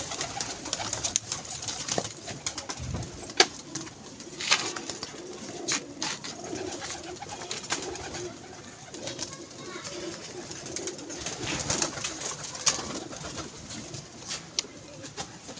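Pigeons cooing at a pigeon club, a steady low murmur of coos and occasional wing flaps from several birds nearby, with faint talking in the background.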